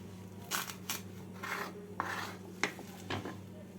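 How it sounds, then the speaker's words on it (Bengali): Soft bathua leafy greens being cut by hand, a series of about six crisp snipping, rasping strokes at an uneven pace over a faint steady hum, close and quiet. "এইভাবে পুরো শাকগুলোকে কেটে নিচ্ছি"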